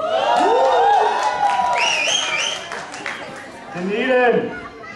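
An audience at a pageant shouts and cheers in raised, whooping voices, with a host talking over the crowd noise nearby.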